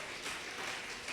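A church congregation applauds during a Spanish-language sermon, giving a steady, dense wash of clapping from many hands throughout.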